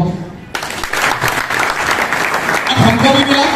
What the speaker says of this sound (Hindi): ताली लगाओ।